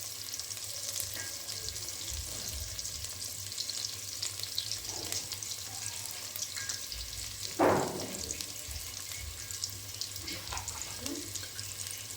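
Coriander frying with onions in oil for chicken biryani, a steady close sizzle throughout with occasional stirring scrapes and one louder clatter near the middle, no talking.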